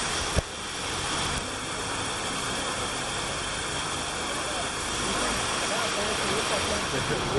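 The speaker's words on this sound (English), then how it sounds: "We have another waterfall that's just beautiful." Steady broadband rushing of a waterfall in the hills of Munnar, India fills the whole stretch as a constant, even roar heard from a moderate distance, with a brief knock near the start.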